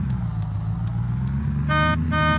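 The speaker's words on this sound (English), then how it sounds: "I can totally hear a car." A car in the video game Unturned approaches, its low engine drone steady throughout, with two short bright horn-like toots near the end.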